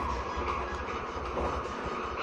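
A train in Malaysia runs steadily with a continuous low rumble and broadband rattle, close and fairly loud, with no voices.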